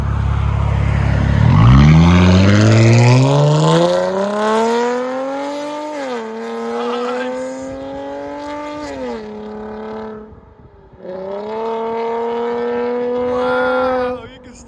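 Straight-piped 2021 Dodge Charger GT with a 3.6L V6 revs up loudly from idle, its raspy exhaust note climbing and holding at high pitch, easing off briefly near the end before roaring again, close by.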